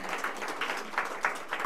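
Soft, distant applause from a church congregation greeting a newlywed couple, a light patter of clapping that swells in small bursts over about two seconds without talk.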